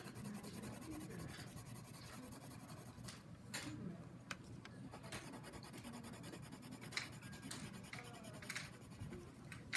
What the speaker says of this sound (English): if you can just fill some color here on your paper